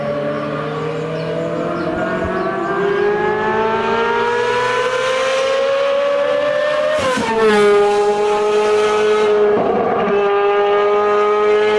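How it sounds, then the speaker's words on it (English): A car fitted with a hand-bent custom exhaust made in a Japanese workshop revs loudly and smoothly with a rising, harmonic engine note. The note briefly climbs higher, then settles into a steady high drone nearby. "let people experience the sound of a real exhaust"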